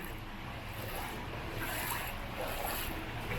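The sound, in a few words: strong monsoon floodwater current in the street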